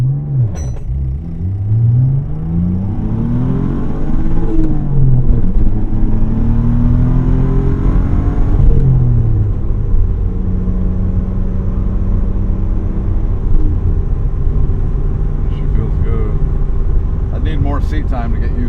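A 1992 Dodge Stealth R/T convertible without turbos accelerating from 0 to 60, heard from inside with the engine revving up through gears in rising sweeps, a steady loud rumble, then cruising under brief talk.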